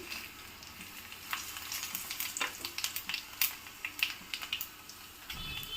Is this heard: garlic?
yes